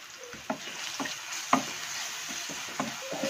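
Chilli powder being stirred into paneer cashew butter masala curry in a pan, a series of close scraping spoon strokes with soft sizzling underneath, irregular and moderately loud.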